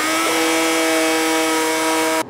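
A Dremel rotary tool with a sanding bit whines at a steady high pitch while grinding scratches on a Mercedes-Benz W126 S-Class air cleaner housing, running continuously up close before stopping abruptly.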